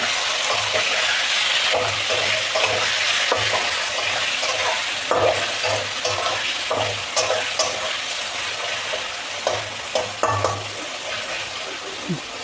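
Chicken pieces frying in oil in a kadai and being stirred with a spatula, a steady loud sizzle with scattered scraping clicks and knocks from the stirring, no talk.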